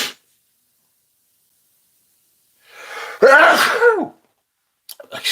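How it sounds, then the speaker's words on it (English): A single loud sneeze with a sharp inhale buildup, close to the listener, followed by a brief pause and a few faint rustles. "Excuse me whilst I sneeze in your ears."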